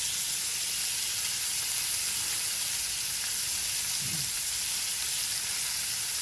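Lamb chops sizzle steadily on a turned-down grill, a constant close frying hiss with no break or voices over it.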